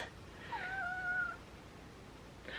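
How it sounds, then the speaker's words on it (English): A pet cat named Reese lets out a single drawn-out, fairly quiet meow over a soft background hiss, followed by a brief faint sound near the end. "And this is my kitty cat, Reese."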